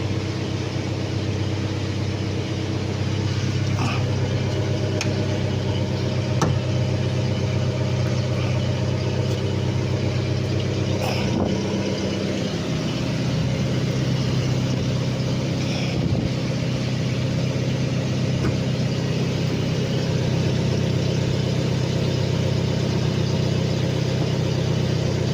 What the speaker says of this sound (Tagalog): So ito, kaya ganyan yung andar niya dahil wala itong muffler